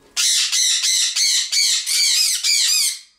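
A conure parrot screams loudly and harshly at close range, giving a rapid run of about seven shrill, grating squawks with barely any pause between them.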